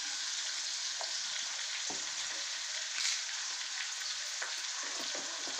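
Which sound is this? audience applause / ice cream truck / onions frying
onions frying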